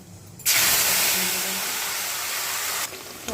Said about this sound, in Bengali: তো তেলে কিন্তু বাটার দেওয়া আছে, জিরে, তেজপাতা, লঙ্কা ফোড়ন দিলাম